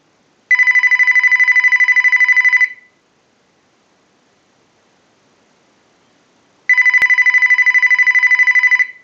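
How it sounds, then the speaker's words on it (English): A Sony SPP-ER101 cordless phone rings in two loud, electronic, warbling bursts of about two seconds each, separated by roughly four seconds of silence, driven by a test analyzer's ring cycle. "use the analyzer and send a ring cycle like you were getting a call"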